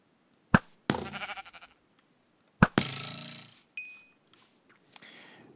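Sheep in the Minecraft video game bleat in two sharp bursts, each followed by a wavering bleat, with soft clicks and a brief chime in between.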